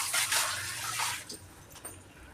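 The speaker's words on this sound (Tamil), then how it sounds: "கொஞ்சமாக தண்ணி போடுங்க" Water poured in a small amount into a pressure cooker of chicken gravy, a splashing gush for about a second that thins to light trickles and drips, close up with no talking.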